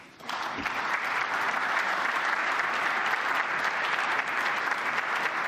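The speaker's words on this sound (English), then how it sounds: "I think he's getting polite applause right now." A conference audience bursts into polite applause at the close of a speech, loud and even clapping that begins abruptly and continues steadily without voices.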